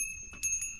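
A bright notification bell chime rings twice in quick succession, clean and close with sustained ringing tones.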